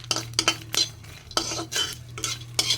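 Dried red chilli, green chilli and garlic frying in a pan, with a spoon scraping and stirring in several sharp bursts over a steady low hum, no talk.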